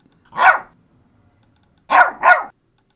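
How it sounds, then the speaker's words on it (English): Small dog barks from a playback clip: one sharp bark followed after a pause by a quick pair, close and loud against silence. "Where's the Mad Lulu bark?"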